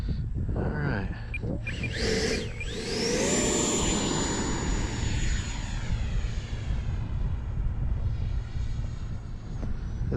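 An E-flite Viper RC jet airplane flies past on a windy day, its ducted-fan engine whining loudly and sweeping in pitch as it passes, then holding a steady high whine over constant wind buffeting.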